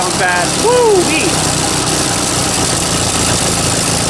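A car engine with an exhaust leak idles steadily, a constant rough rumble up close, with a voice speaking briefly near the start.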